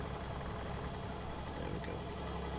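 A farm vehicle's engine idles in Farming Simulator 19, a steady, even mid-pitched drone that holds without change from start to finish.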